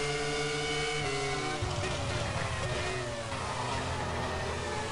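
A Formula 1 car engine in the racing game F1 2002 at Indianapolis holds a continuous high, buzzing whine, rising and shifting in pitch as the car accelerates and changes gear, loud and alone.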